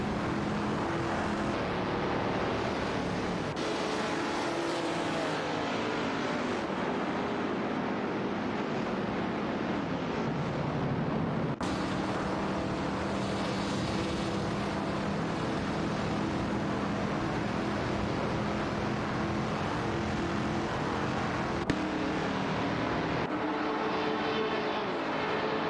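Race cars circling a circuit in an AI racing video game, a dense continuous engine roar with shifting pitch as cars pass and swap positions, steady and fairly loud with no talk.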